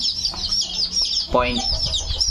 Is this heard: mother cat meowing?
no